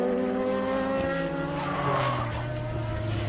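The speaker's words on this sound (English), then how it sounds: "Somebody else skidding out there." A loud race car engine roars steadily with a falling pitch at a NOLA circuit race, joined midway by a brief squeal of tires as a car slides.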